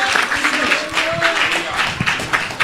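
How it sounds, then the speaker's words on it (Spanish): Congregation applauding in a church service, a steady close burst of many hands clapping, with voices calling out beneath it. "Un aplauso al Señor."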